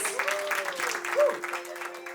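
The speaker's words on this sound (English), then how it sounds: "A huge round of applause, please." Audience applause at a film festival's cultural stage event, a crowd clapping steadily with a faint sustained tone and voices mixed underneath.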